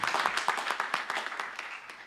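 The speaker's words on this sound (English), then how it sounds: "let's have a final round of applause for our graduates" Audience clapping for graduates at a university hooding ceremony, a smaller group with distinct individual claps audible in a quick irregular patter, gradually thinning out and fading toward the end.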